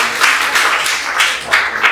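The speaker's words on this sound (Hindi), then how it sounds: "एक बार ताली बजाइए।" Audience applause for a student team at a youth mock parliament class event, a steady mid-level wash of clapping with a few louder swells across two seconds.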